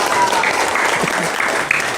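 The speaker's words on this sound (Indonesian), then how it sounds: "Tepuk tangan untuk anniversary Taklim Ma'rifat yang pertama." An audience claps steadily and loudly for the first anniversary of a religious study group, with a faint shout rising briefly near the end.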